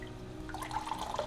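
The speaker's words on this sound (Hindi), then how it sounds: "अब अच्छी तरह से स्क्वीज़ कर लेंगे। ये पानी हम फेंकेंगे नहीं, ग्रेवी में यूज़ करेंगे।" Water dripping and trickling from squeezed grated bottle gourd into a bowl, faint close drips that grow busier toward the end, with no talking.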